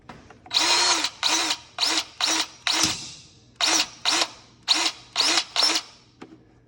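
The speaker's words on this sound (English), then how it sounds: "Fills those zerks up really well with grease." A DeWalt 20-volt cordless grease gun pumps grease through its tube into zerk fittings, giving ten short, loud motorized whirring bursts in an uneven rhythm with brief pauses between them.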